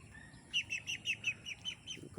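Newly hatched ducklings in a small pen give a quick series of about eight thin, high peeps, faint and fairly close, with a soft rustle near the end.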